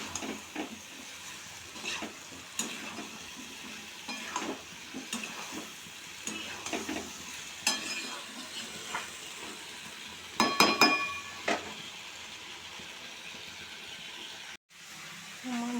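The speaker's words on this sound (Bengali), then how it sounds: "আমার মশলাটা প্রায় কষানো কমপ্লিট" Spice paste being sautéed in a pan at home, with scattered stirring scrapes and soft frying crackle; a brief clatter of utensils near the end, steady and close.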